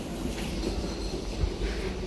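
A Delhi Metro train on the airport line runs with a loud, steady rumble and faint rail clatter, heard from inside the car with no speech.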